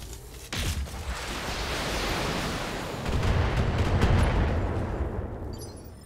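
Heavy weapon fire from mechs in a Battletech battle, a dense roaring barrage that starts abruptly with a sharp onset and rumbles on loudly with a swelling second burst, no talking.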